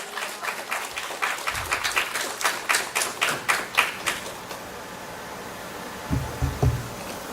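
A church congregation applauds to welcome a guest preacher, a few seconds of steady rhythmic clapping that fades into room noise, with a couple of low thumps near the end.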